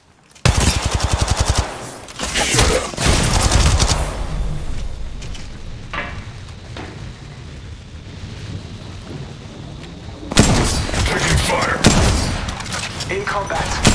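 Gunfire in the battle royale shooter Apex Legends: loud bursts of rapid automatic fire open the clip, followed by a quieter stretch of scattered action and a second heavy burst near the end, with in-game voice callouts heard.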